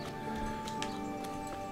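Horse hooves clip-clopping in the medieval video game Kingdom Come: Deliverance, a steady run of soft, moderate hoof strikes over a constant background bed of game ambience and music.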